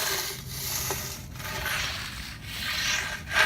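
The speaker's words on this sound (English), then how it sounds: "go ahead and grab your steel rake and just go ahead and rake off all clumps and excess dirt." A steel rake scrapes clumps and loose dirt across the ground in steady, close, gritty strokes, with no talking.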